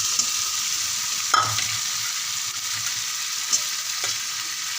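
Fried potatoes are stirred into cooked spices in a pan during vegetarian pea dal cooking, giving a constant near sizzle with scraping stirs and a couple of sharp clinks of the spoon on the pan.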